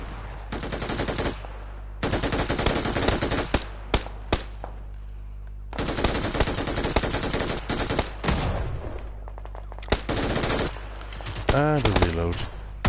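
Automatic rifle fire in the battle royale game PUBG, loud close bursts of rapid shots lasting a second or two each, separated by short pauses, with a reload clatter between volleys.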